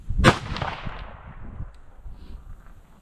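A single sharp rifle shot from an MDT Frostbite chassis chambered in 22 Dasher (22DPC), loaded with CFE223 powder, cracks loudly near the start, then echoes and decays into a rolling outdoor reverberation.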